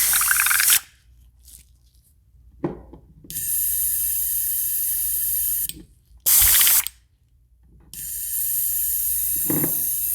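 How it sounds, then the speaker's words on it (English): Two long, steady hissing sprays of water through an airbrush, each a few seconds long, close by, separated by short clicks and bursts of air. "Sometimes I'll spray water forward through it and then I'll backwash."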